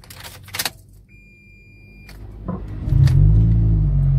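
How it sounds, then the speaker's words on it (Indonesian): Engine of an automatic-transmission car cranks and catches, settling into a loud, steady low idle rumble after a few quieter clicks and a brief whirr. "Dan gue nyalakan mesinnya ya guys."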